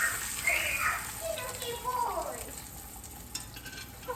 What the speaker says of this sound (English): I'm gonna fry it, and then I'm gonna do it on both sides